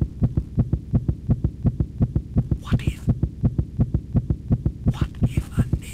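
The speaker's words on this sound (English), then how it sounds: "a neighbor might hear that heart beating" A heartbeat from the horror adventure game The Dark Eye pounds in steady, evenly spaced lub-dub pairs, loud and close over a low hum, with two short breathy bursts partway through.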